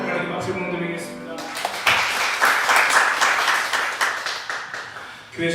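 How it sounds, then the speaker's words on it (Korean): Congregation clapping during a Sunday church service, opening with a sung or spoken voice and then breaking into dense, sustained applause that fades out near the end. "하나님 박수 드리겠습니다."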